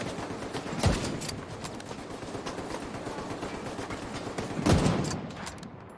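Incendiary rounds fire in The Division 2 in two short bursts of gunfire, each a sharp loud volley with crackling tails, set over continuous game ambience.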